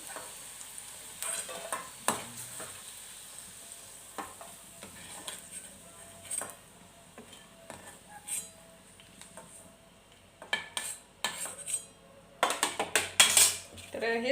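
Fried bitter gourd pieces lifted out of a hot pan, with soft sizzling beneath scattered metallic clinks and scrapes of a utensil, growing into a busy burst of clatter near the end.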